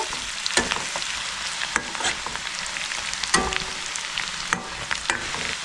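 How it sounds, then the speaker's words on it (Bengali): Chopped onions sizzle steadily in a pan as they fry toward light red, with a spatula scraping and stirring at irregular intervals, close and fairly quiet. "পেঁয়াজটা হালকা লাল করে ভাজবো।"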